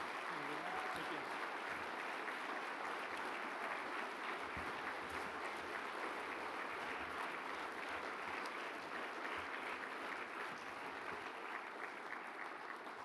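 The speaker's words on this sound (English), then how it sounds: "You could applaud that again" Audience applause at the 2022 Innovators Gala, a dense, steady wash of clapping that fills the room evenly for the whole stretch, with some voices mixed in underneath.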